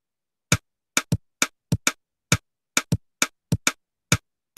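Sharp computer-generated drum hits in a four-against-three polyrhythm, two pulses overlapping against each other, dry and isolated with silence between strikes.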